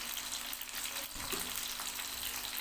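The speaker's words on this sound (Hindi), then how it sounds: "प्याज को थोड़ा सा हम फ्राई करते हैं" Onions frying in a pan for a matar keema dish, a soft steady sizzle with a few faint stirring or clinking touches around the middle, quiet and close.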